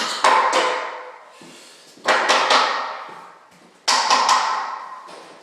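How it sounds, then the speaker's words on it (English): Hammer striking a nail set to pop door hinge pins out while removing an interior door: three separate sharp metallic impacts spaced about two seconds apart, each ringing briefly and decaying, close and loud with no talking. "get your hammer and nail set. We're going to pop the door pins out."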